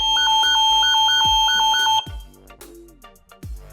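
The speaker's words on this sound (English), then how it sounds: "the alarm will go off, alerting your security monitoring service" A Nest Secure home security alarm sounds a rapid repeating two-tone beep pattern, loud and close, then cuts off, followed by a few softer electronic tones.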